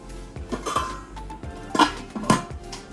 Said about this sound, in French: Un autre petit couvercle. 3 casseroles. Une petite poêle encore. Et un gros faitout